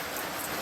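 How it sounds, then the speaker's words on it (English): Light rain falls in a steady, soft, even hiss, brief and unbroken, with no voices. "The rain is falling."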